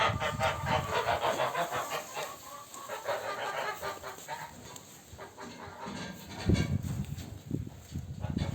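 Repeated honking and cackling of geese, moderately close, in loose overlapping bursts against a noisy outdoor background.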